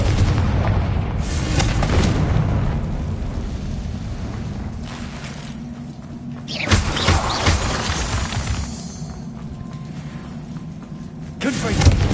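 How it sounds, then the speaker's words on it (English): Confringo fire spell blasting in the Hogwarts Legacy video game, loud booming explosions with shattering debris over a rumbling bed, one big burst in the middle and another near the end. "Confringo."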